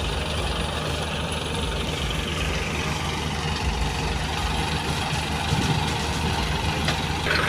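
A steady, loud engine idles throughout with a deep, continuous rumble and no breaks.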